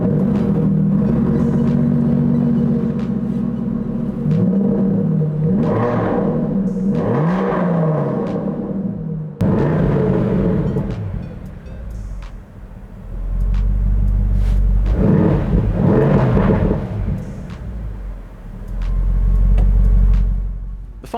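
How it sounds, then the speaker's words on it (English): An Aston Martin V12 Vantage S Spitfire Edition's V12 engine revs repeatedly, rising and falling in pitch with deep rumbling swells, a sharp cut-off midway, then heavier throttle blips toward the end, close and loud. "there's one more important comparison, and that's how they sound. Let's start with the Aston Martin."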